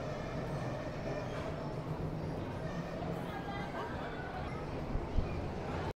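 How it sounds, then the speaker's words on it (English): A small ride-on train at a zoo rolls past, a steady rumble and clatter holding for about six seconds under outdoor crowd chatter before cutting off abruptly. "Oh, and they got a train too."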